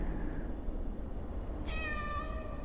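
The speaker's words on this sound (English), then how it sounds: "It's a cat." A cat gives a single clear, drawn-out meow, close and fairly loud, in the VR video game Waltz of the Wizard, following a quieter stretch of background ambience.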